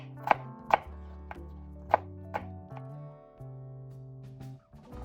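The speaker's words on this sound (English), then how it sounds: "First we're going to chop up some potatoes." Potatoes chopped with a knife on a cutting board, several crisp, distinct thunks at an irregular pace, close and clear over a faint musical background.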